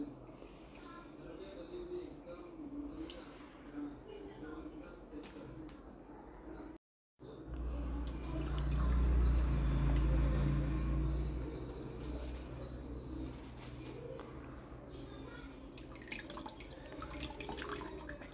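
Water running and splashing in a sink while used tea powder is rinsed: a steady close hiss of flowing water with a brief cutout, then a fuller gush, with faint talking mixed in.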